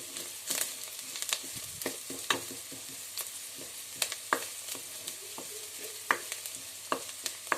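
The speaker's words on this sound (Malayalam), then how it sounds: "അപ്പോൾ ഇത് സവോള ഒരുവിധം വഴഞ്ഞു വന്നിട്ടുണ്ട്" Sliced onions for beans mezhukkupuratti are stirred and sautéed in a pan, a soft steady sizzle broken by frequent scraping spatula clicks and taps, close and without speech.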